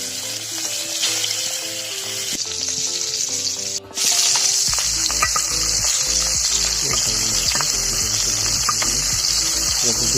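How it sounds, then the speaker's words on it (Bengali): Small puti fish fry in soybean oil in a pan, a loud, continuous sizzle that swells after a brief dip, while background music plays throughout. "মাছ ভাজা শুরু করে দিয়েছি।"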